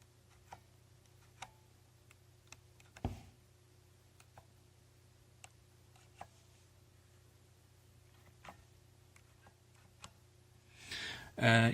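Sparse, sharp clicks of Corsair K70 Mk2 mechanical keyboard keys pressed one at a time at irregular intervals over a low steady hum, ending in a louder clatter.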